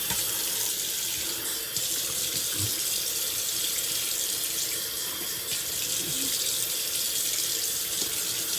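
A faucet pours continuously into a sink as shaving lather is rinsed out, a steady loud close-up rush of water with small splashes throughout.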